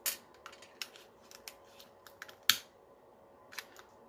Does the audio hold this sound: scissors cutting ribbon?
yes